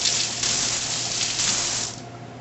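A kitchen tap runs water onto a towel, a steady close hiss of flowing water that softens and thins out toward the end, with no talking.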